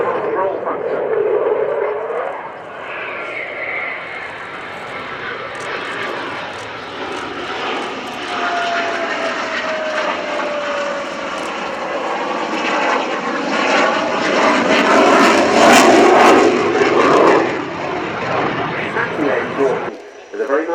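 A Eurofighter Typhoon jet flies a display at the RIAT Fairford airshow, its engine roar swelling and fading over about twenty seconds as it passes, loud and sustained, with a commentator talking over it.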